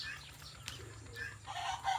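A rooster clucks a few times near a home, short throaty calls over a low steady background hum.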